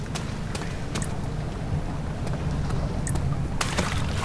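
Low, steady rushing of water in Amnesia: The Dark Descent, a continuous broadband wash at moderate level with a few faint splashy ticks scattered through, heard alone without talk.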